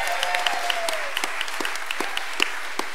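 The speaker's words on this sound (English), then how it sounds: "Big hand for Laura Milkey" Audience applause at a live radio play, a steady wash of clapping hands that carries on for a few seconds, with a faint whoop rising early on.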